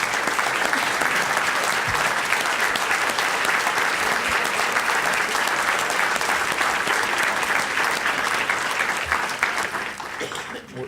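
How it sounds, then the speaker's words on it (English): Audience applause for a school management team at a public event in Chicago, a loud sustained wash of many people clapping that holds steady for about ten seconds before beginning to fade. "please give them a huge round of applause"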